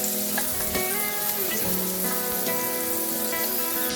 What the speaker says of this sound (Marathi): तेलामध्ये बारीक कापलेला टॅमॅटो टाकून घ्यायचा. 1-2 मिनिटे टॅमॅटो हलवून घ्यायचे.